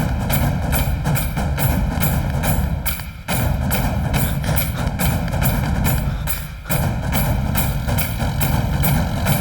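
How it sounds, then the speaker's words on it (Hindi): A tractor engine running, a loud steady low rumble with a regular pulsing beat, briefly dipping twice before carrying on. "रोक ट्रैक्टर।"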